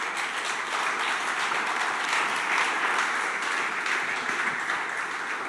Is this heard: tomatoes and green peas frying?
no